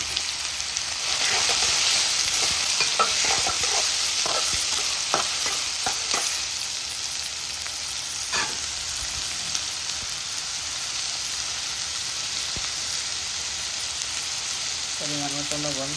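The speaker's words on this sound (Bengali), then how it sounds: "পরিমাণ মতো লবণ দিয়া পুড়িয়া রাখে তুমি পেঁয়াজ নরম হোক।" Onions with salt fry in a pan, giving a constant, even sizzle with a cluster of scraping stir strokes early on, then settling to a steady frying hiss.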